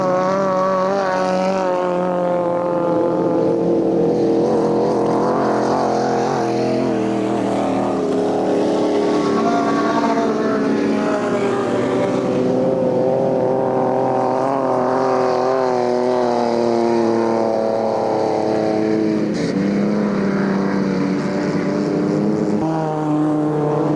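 Race cars at a 1998 ice race roar throughout as continuous, loud engine drone with rising and falling pitch as they rev and pass, with multiple engines overlapping.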